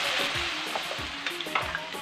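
Mixed vegetables, including cauliflower, peas and capsicum, fry lightly in a pan with a close, continuous sizzle, broken by several distinct spoon stirs and scrapes, with no voices.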